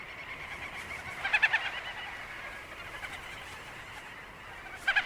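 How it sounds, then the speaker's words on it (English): Little auks at an Arctic breeding colony on bare rock, heard as bursts of chattering, trilling calls from a distant mass of birds, rising twice over a steady windy hiss. "Little auks arrive in their millions."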